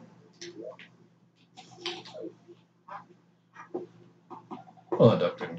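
Duck sounds from the video game Terraria: a series of short quacking, clucking calls in separated bursts, ending in a louder cluster, with faint background hum and no speech.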